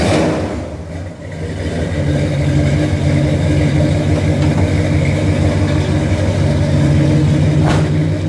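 A car engine revs through a twin exhaust, a deep steady roar that swells after a brief dip and holds loud and close throughout.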